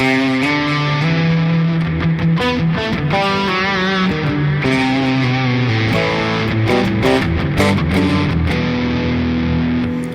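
Distorted electric guitar on a Strandberg Boden in the humbucking position, playing chords and melodic lines with a thick, warm mid-gain tone, steady and loud throughout.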